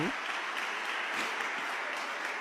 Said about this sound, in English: Oh, they're clapping.